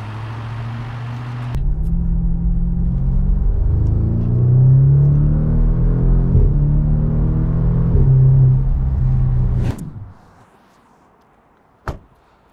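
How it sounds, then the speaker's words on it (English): A cold car engine takes small throttle blips, the low rumble swelling and easing in short rises over several seconds before cutting out, followed by a sharp single knock near the end. "Just tiny little blips on the throttle because it was still cold"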